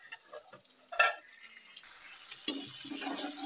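Tomatoes and onions fry in a pan, with a sharp clatter near the one-second mark, then a steady soft sizzle and light stirring scrapes through the rest.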